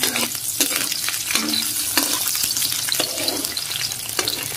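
Onion fries in a hot pan for squid adobo with coconut milk, sizzling loudly up close while a utensil stirs and scrapes in a repeated rhythm.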